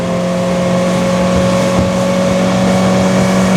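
A Rodosto 460 Spark motorboat's engine runs at a steady pitch: a continuous, even drone with a clear humming tone. It is moderately loud and sounds alone, with no voices.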